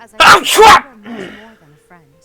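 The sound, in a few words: sneeze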